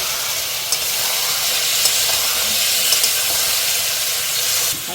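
Masala paste of ginger, garlic, tomato, cumin and sour curd frying in oil in a pan, a steady loud sizzle with a few faint scraping stirs.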